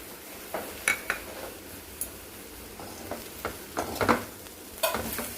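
A spoon stirs ivy gourd fry coated in coconut powder in a pan, producing soft sizzling under a string of sharp scrapes and clinks against the metal, close up and without talk.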